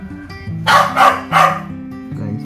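A pet dog barks three times in quick succession, close and loud, during a watch repair session with the balance wheel being replaced, with faint tonal background sounds underneath.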